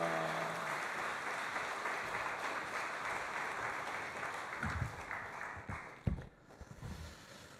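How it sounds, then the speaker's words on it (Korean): Sustained crowd applause at a Korean church summer revival service welcoming a visiting pastor: dense, even clapping throughout, with a few sharper louder claps toward the end and no talking. "박수로 우리 강사님 받겠습니다"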